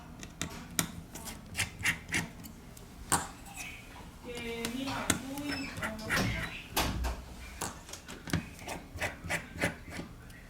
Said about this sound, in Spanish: Desatornillar los tornillos de la placa base.